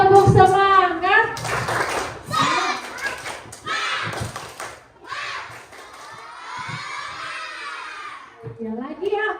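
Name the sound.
group rhythmic clapping chant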